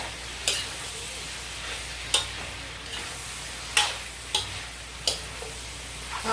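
Cabbage being stir-fried in a pan for pancit canton chow mein, with a steady soft sizzle and several sharp scraping clinks of the utensil against the pan at intervals.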